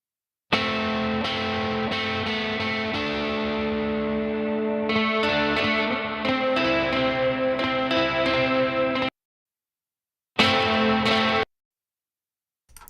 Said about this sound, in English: Doesn't sound like nice distortion. Kind of sounds like clipping distortion.